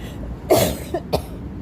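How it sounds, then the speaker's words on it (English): Two short coughs, a strong one followed by a smaller one, close by against quiet room noise. "I almost coughed on somebody."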